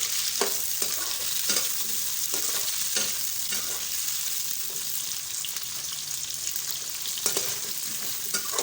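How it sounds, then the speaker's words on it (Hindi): Cauliflower fries in a pan with a dense, continuous, close-up sizzle, lightly punctuated by occasional stirring scrapes, and no one speaks. "गोभी को भी फ्राई करेंगे अच्छे तरीके से ताकि इसका कच्चापन जो है वो दूर हो"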